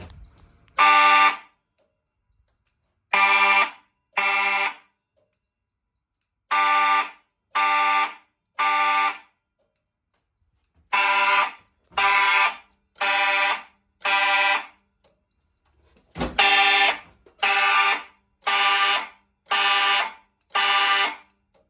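A vintage Faraday electromechanical fire alarm system blares in loud, harsh buzzing bursts, each about a second long, repeating with short pauses, with a clunk of relays before the later run.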